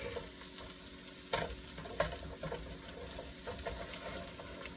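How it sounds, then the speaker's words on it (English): Onions and eggs frying in a pan for fried rice give a steady, close sizzle, broken by a few sharp scrapes and clicks of stirring, with no talking. "like your onions are sauteed perfectly, your eggs are cooked perfectly"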